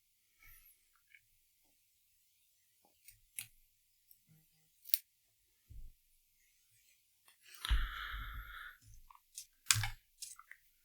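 Scissors snip bucktail fly tying material at a quiet bench, giving a scattering of short, close, crisp cuts with a longer rustling snip midway.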